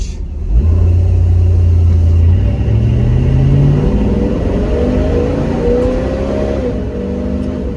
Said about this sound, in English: We load it up and do like a half throttle launch.